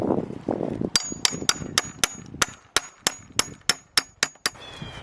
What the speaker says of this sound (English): so I'm going to use my hammer to tap it in.